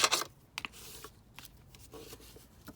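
Sheets of paper are folded and creased by hand to make a pocket envelope, giving a sharp crinkle at the start, then scattered soft rustles and taps from close by, with no talking.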